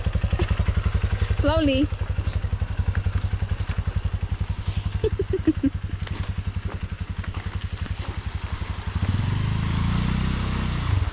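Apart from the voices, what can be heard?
small motorbike riding on a rough road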